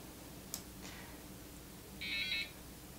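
A small homemade UHF receiver runs off an old phone battery with a 5 volt boost circuit. Its little beeper gives one short, faint high tone as it starts up, after a couple of soft clicks, in a quiet room.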